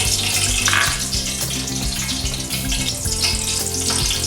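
Cooking oil sizzles and crackles steadily in a pan while a chicken curry paste is prepared, with bright continuous frying hiss and a dense low rumble underneath, close and fairly loud throughout with no talking.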